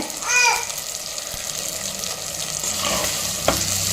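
Onion, tomato and soaked fenugreek seeds sautéing in a pan for a fenugreek kuzhambu, giving a steady soft sizzle with a scrape of stirring near the start and a small clink toward the end.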